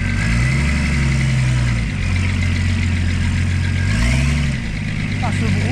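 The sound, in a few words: Ford Sierra six-cylinder engine running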